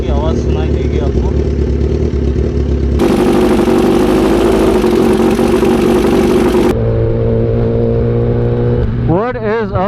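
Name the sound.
Kawasaki ZX10R superbike engine running with cam chain tensioner rattle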